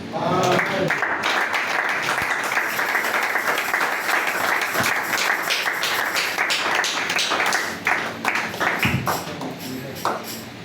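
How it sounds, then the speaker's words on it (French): A congregation claps and cheers during a church sermon, the applause sustained, loud and dense across the whole stretch, tapering slightly near the end. "Acclamons une fois de plus ici"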